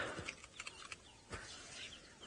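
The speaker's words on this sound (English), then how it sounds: "All the birds are just starting to call now." Birds call at sunset on a safari drive, faint scattered chirps and short calls at a distance over a quiet outdoor background.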